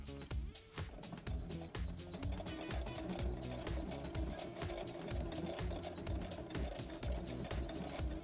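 A Brother CS7000i sewing machine stitches a cowboy hat seam, its motor running in a steady, close whir with a fast rhythmic needle chatter that holds evenly throughout, with no talk.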